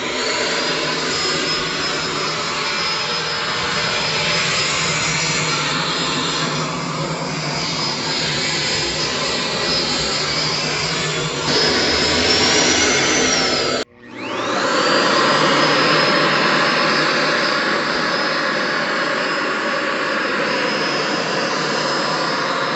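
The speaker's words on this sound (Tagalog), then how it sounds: "so vacuum na lang yung gamitin natin" A household vacuum cleaner runs with a steady high-pitched whine and broad rushing air, briefly cutting out near the middle before spinning back up, loud and close with no talk.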